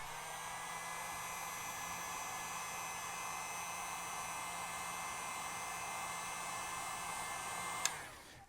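Steady, loud whooshing hiss of a heat gun blowing hot air to warm the adhesive inside an iPhone 6, running without a break and then cutting off abruptly near the end.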